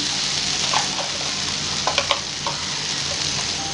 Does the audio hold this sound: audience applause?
no